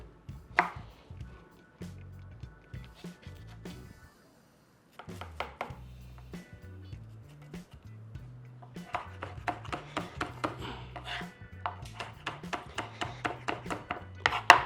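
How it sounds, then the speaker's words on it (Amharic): Green chili peppers are chopped on a board with quick, crisp knife strikes, first in short bursts, then a brief pause, then a faster and louder run of rhythmic chops. "እንደዚህ እናደርግና ቃሪያ ይከተፋል"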